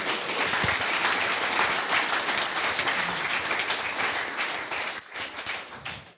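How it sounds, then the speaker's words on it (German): Dense, sustained applause from an audience at a youth hackathon opening in Cologne, steady for several seconds before thinning toward the end. "Applaus!"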